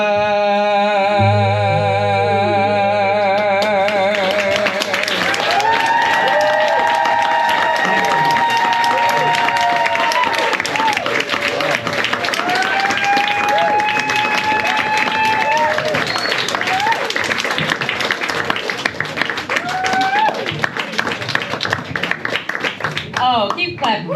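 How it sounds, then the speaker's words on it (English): Audience applause with scattered cheers fills a performance evening of artists responding to Judy Grahn's work; dense clapping runs throughout, mixed with whoops and voices over the crowd. "keep clapping for Justin, Vivian Bond, and Nath Ann Carrer"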